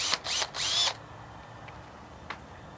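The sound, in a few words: power drill pre-drilling a hole for a side rail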